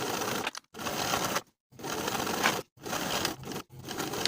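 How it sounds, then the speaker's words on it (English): A sewing machine edge-stitches sweater sleeve hems close to the raw edge, running in four steady bursts of a few seconds each with short pauses between, fairly close and alone. "then I'll sew the hems in place Once again, edge stitching close to the raw edge on the insides."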